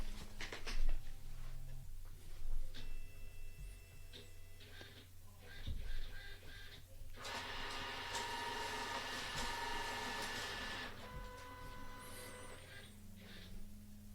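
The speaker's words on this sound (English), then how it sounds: "I'm not going to film the printer, but you'll hear it in the background" A Xerox B315 laser printer whirs and clunks in the background running a two-sided scan, its mechanism rising into a busier, louder stretch midway, fairly quiet and distant overall.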